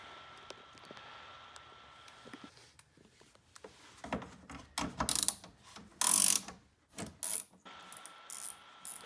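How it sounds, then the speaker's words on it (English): A ratchet with a metric socket works on the window regulator bolts inside the door of a 2004 Saab 9-3. Bursts of rapid clicking come close and loud in the second half, separated by pauses, with no talking. "start removing the bolts for the window regulator itself"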